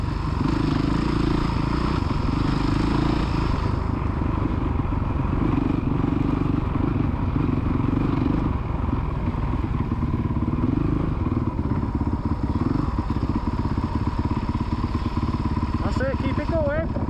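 A motocross dirt bike engine revs on a kids' MX track at Astley, a loud close continuous buzzing drone that holds steady throughout, with faint voices underneath.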